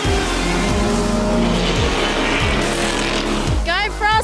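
BMW M6 GT3 race cars racing on a circuit, loud engines roaring and shifting gears as they pass close by, with a narrating voice over the noise.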